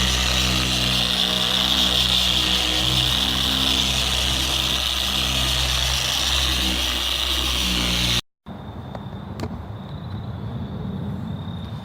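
A machine polisher drones steadily on the paint of a Ford Fiesta ST, a loud continuous motor whine with a low hum, then cuts off abruptly, leaving quieter handling and background noise.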